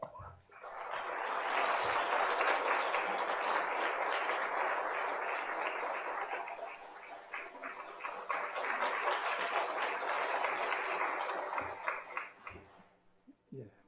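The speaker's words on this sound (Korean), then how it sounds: "우리 이 시간 한윤식 교수님 나오실 때 큰 박수로 부탁드리겠습니다." Listeners at a faith-based lecture on studying give a big round of applause as a university professor comes forward, a full, steady burst that swells quickly, holds for roughly eleven seconds, then trails off.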